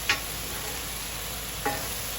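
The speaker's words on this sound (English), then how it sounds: "So now I'm moving my meat and my vegetables together" Meat and vegetables stirred together with sauce on a hot griddle, a steady loud sizzle with two sharp utensil scrapes or clacks, one near the start and one near the end, with no talk.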